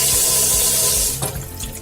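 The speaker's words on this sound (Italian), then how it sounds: "Adesso apro l'acqua fredda" Cold water running from a kitchen sink mixer tap, a steady rushing splash that dips and changes near the end as the flow hits the basin, close and alone.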